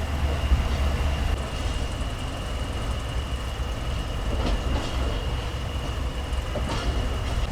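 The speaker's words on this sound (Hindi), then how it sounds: "11:52 पर हमारी ट्रेन मूव होना शुरू हो चुकी है नवाबशाह रेलवे स्टेशन से" A Pak Business Express train rolls out of Nawabshah railway station, a steady low rumble with faint rhythmic clicks from the wheels and a constant hum, heard from inside the carriage.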